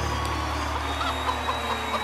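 Chicken clucking from a video game, a steady stream of soft clucks sitting over a constant low background hum with no talking.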